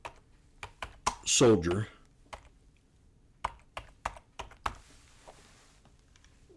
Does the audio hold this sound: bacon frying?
no